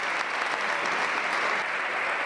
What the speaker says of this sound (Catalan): Els aplaudiments de l'afició per donar la benvinguda a Josep.